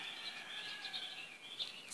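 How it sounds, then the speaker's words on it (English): Birds chirping on an early morning, a steady layer of small high tweets and calls carrying on faintly without pause, with no voices. "Early in the morning like this, I love to hear the birds chirping and the chickens crowing."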